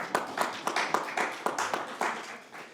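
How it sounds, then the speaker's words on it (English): A small group claps at a municipal council swearing-in ceremony, producing distinct, fairly rhythmic claps that stand out individually and fade slightly toward the end, with no voices. "You can applaud these things."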